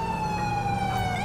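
Police car siren in the video game GTA5, a steady, loud wailing tone held throughout over a rumbling engine and road noise during a car chase, with no talk.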